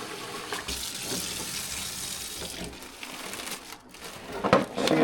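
Tap water running steadily into a bag of turkey brine, a continuous splashing pour that swells louder near the end, with no talking over it.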